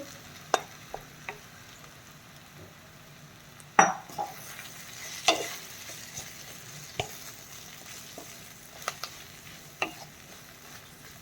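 Crumbled jowar bhakri is stirred into a hot tempering in a pan, giving a soft, faint sizzle broken by scattered clinks and scrapes of a spoon against the metal.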